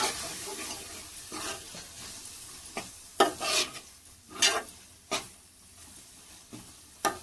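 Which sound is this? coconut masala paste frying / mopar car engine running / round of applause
coconut masala paste frying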